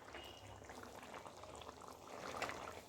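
Fish curry bubbling in a pot, a faint, steady simmer with soft popping bubbles, close and low in level, without talk.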